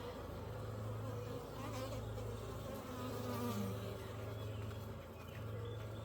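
Dense, steady hum of many honey bees inside a hive that has just been split, a continuous close drone with a low tonal buzz that swells slightly and never stops.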